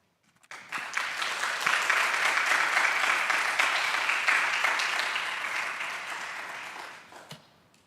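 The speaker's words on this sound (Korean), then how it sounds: "목사님 나오실 때 우리 큰 박수로 환영하겠습니다" A church congregation applauds to welcome a pastor at a Wednesday prayer service, a dense, steady round of clapping that swells quickly, holds for several seconds and tapers off at the end.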